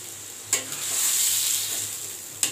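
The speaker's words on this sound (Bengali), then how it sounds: "এখন আমরা মাংসটা দিয়ে কষিয়ে নিব। তার মধ্যে দিয়ে দেব ফেটানো টক দই।" Chicken pieces fry in spiced oil with whipped sour yogurt, a steady close sizzle broken by two sharp stirring scrapes in the pan.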